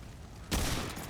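A Wrangler gun firing in Remnant 2 at a rushing enemy: a single loud, abrupt shot bursts in after half a second of quiet and decays into a sustained, noisy rumble.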